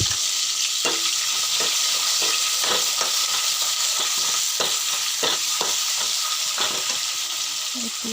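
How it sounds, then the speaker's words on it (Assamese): Onion frying in oil until brown in a pan, a constant loud sizzling hiss with intermittent stirring scrapes and clicks up close. "এতিয়া সেইখিনি তেলতে মই পিঁয়াজটো ফ্ৰাই কৰি ল'ম।"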